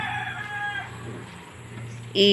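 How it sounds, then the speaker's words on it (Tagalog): Chickens clucking nearby, with soft clucks early and a loud sharp squawk at the end, over a low background hum. "yung mga manok, sunod ng sunod sa akin"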